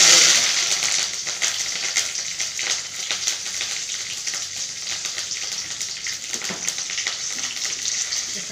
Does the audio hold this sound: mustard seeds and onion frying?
yes